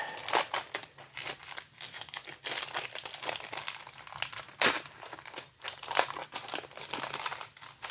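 A foil wrapper on a 1989 Pro Set football card pack is crinkled and crumpled up close, rapid crackling rustles with one sharp tear partway through, quiet overall and without talking.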